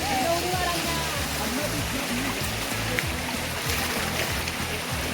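Juinagar waterfall and its stream, a dense steady rush of flowing water close by, continuous and fairly loud with faint voices in the background.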